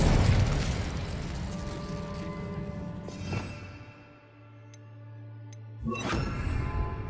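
Confringo and Incendio spell blasts in Hogwarts Legacy go off as a loud, rumbling explosion that fades out, followed by a second sharp burst a few seconds later, with faint ticking tones between them.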